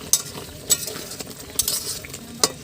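A spoon or spatula stirs taro curry with garam masala powder in a pan, producing a few distinct scraping clacks over a soft background sizzle, spaced irregularly and heard alone without talk.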